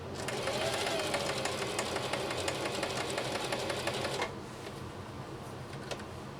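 A Singer Heavy Duty 4423 sewing machine runs a zigzag stitch with a rapid, even mechanical clatter for about four seconds, then stops, leaving quieter background noise.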